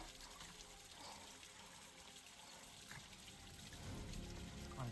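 Side Falls, a waterfall in a rocky gorge in Red Rock Hollow, gives a steady, fairly faint rush of flowing water that holds constant and swells slightly toward the end, with no voices.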